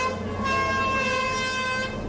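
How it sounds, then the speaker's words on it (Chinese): Horns sound together from a fleet of fishing boats setting out from a harbour in Taiwan, a sustained harmonic blare close and loud over general harbour noise. "一路鸣笛，振奋士气，"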